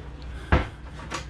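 A drawer or cupboard aboard a Princess F45 yacht bumps shut with one sharp, close knock, followed by a softer slide or click amid quiet cabin hum.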